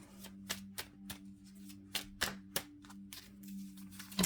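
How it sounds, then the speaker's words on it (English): Tarot cards are shuffled up close in a series of crisp riffles and taps, irregular in rhythm, over a faint background hum. "3 more shuffles."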